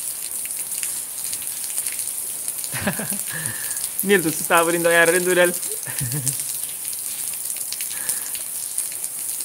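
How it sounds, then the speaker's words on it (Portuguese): Rain falls steadily in Tarrafal, Cape Verde, a constant hiss of drops heard all the way through while a person speaks in the middle. "Tarrafal está chove"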